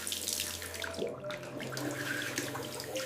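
Water pours steadily from a tap into a sink, a close, continuous splashing stream with a brief dip in the flow partway through, heard alone without speech.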